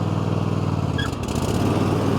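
A Craftsman T240 lawn tractor runs with its mower blades engaged, a loud, steady engine drone mixed with blade whir, close by and continuous, with a short high beep near the middle.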